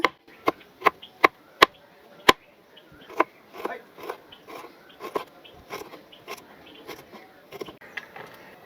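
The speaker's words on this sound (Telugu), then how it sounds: "ఒక 2 ఇంచుల అల్లం ముక్క అండి, సన్నగా తరిగేసుకుందాం ఇది కూడా." A two-inch piece of ginger is finely chopped with a knife on a board, giving crisp, close knocks: a few loud, evenly spaced strikes, then a quicker, softer run of cuts.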